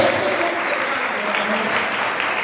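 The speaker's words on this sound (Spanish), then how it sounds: "Dale un fuerte aplauso al Señor." A church congregation at a service in a convention center claps in loud, dense, continuous applause throughout, with a murmur of voices underneath.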